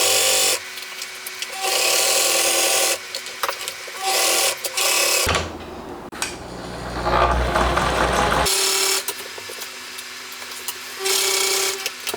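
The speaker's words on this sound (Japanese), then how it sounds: "今2枚の座面の部分を縫い合わせてます" A sewing machine stitching two seat cushion panels together for a new motorcycle seat on a Honda RC146 replica, heard as close, loud bursts of rapid stitching with short pauses between them, separated by a stretch of handling noise, with no voices.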